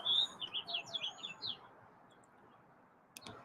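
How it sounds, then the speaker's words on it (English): A small bird high in a Bradford pear tree chirps a quick, bright string of notes for about a second and a half, fairly faint over quiet outdoor ambience, followed by a short clack near the end. "we get some noisy little thing up at the top of the neighbor's Bradford pear tree, chirping away."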